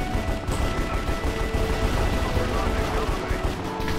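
Rapid AK-47 gunfire in a Minecraft-style shooter game, dense bursts of shots running continuously and loud throughout, with a player's voice talking over the shooting.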